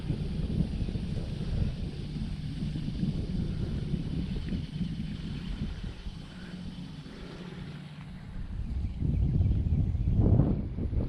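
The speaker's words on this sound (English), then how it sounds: "Oh, the wind's kind of coming from all directions." Wind rushes and buffets the microphone outdoors while sailing a DragonForce 65 radio-controlled yacht in very light wind, a steady low rumble that swells louder near the end, with no speech.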